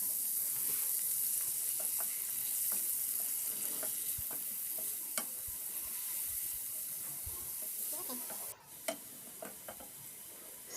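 Chopped onions frying in palm oil in a pot for pumpkin and yam porridge, a constant bright hiss with scattered crackles and stirring knocks, briefly dipping near the end, no voices.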